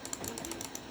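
Rapid keyboard typing on a computer keyboard during a Windows game session on a Steam Deck, with steady uneven clicks close by over a faint background hum.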